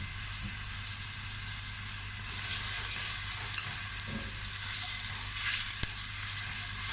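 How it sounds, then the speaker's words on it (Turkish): Onions sizzle steadily in olive oil, a constant close frying hiss with a faint clink or stir now and then. "Soğanlarımı çok yakmadan hafiften bir soteleyeceğim."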